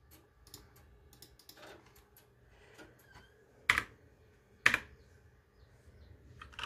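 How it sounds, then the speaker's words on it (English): Scattered keystrokes on a computer keyboard tap out quietly at an uneven pace, with two louder, sharper clacks standing out midway, nearby in a quiet room with no speech. "Never need keyboard ASMR."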